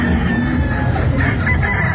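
Gamefowl rooster crowing at a breeder's booth at a Boston gamefowl expo, a loud close crow filling the clip over steady crowd murmur and clucks from nearby fowl.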